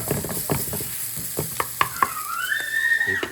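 A handful of curry leaves drops into hot oil for chicken kulambu, giving sharp crackling pops and spits followed by a rising sizzle, close and loud with no talking.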